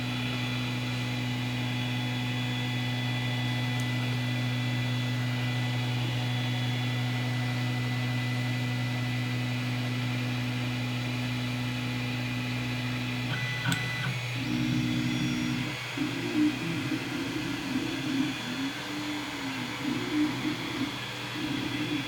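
A 3D printer running quietly with its stepper motors upgraded, giving a steady low electrical hum and whine throughout, with faint warbling motor tones joining in near the end.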